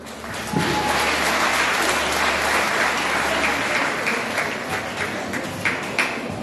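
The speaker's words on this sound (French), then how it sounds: "un applaudissement chaleureux pour ces deux écoles, s'il vous plaît" An audience at a school quiz final between two schools gives warm applause. The sustained crowd clapping holds steady, with a few sharper individual claps standing out near the end.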